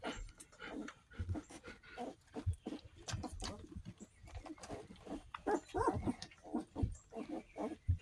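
Wheezey, a nursing mother dog, pants in quick, raspy, continuous breaths close to the microphone, with a soft snort or two mixed in.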